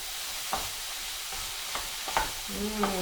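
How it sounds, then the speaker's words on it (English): Peas, peppers, celery and broccoli stir-fried in a hot pan, with a continuous loud sizzle and a few scraping stirs of the utensil against the pan. "Get all those little bits of broccoli in there too. Okay, and stir them around."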